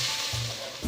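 Whole spices with ginger garlic paste frying in a pan for pulao, black pepper, cloves, star anise, cinnamon and white cumin among them, giving a steady close sizzle with low scraping stirs for about a second.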